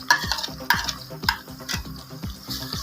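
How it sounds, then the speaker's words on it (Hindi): Chopped large tomatoes and whole green chilies tumble into ginger and garlic frying in a pan for dhaba-style chana dal, giving a loud sizzle with repeated sharp stirring scrapes and clinks in a steady rhythm, no talking. "अब इसमें शामिल करेंगे 2 कटे हुए बड़े टमाटर और साथ में 5 से 7 सब्ज़ मिर्ची साबुत"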